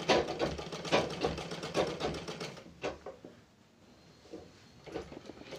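A sewing machine runs in a steady rapid stitching rhythm on fabric during a beginner tailoring lesson, then stops, leaving a quiet pause and a few faint clicks.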